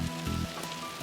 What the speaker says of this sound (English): Nearing a strong storm cell, they encounter a barrage of hail.